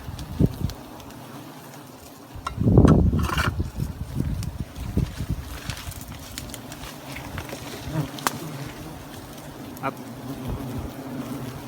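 Bees buzzing steadily around a wild honeybee nest outdoors, with a louder, closer swell of buzzing early on before it settles back to a constant drone.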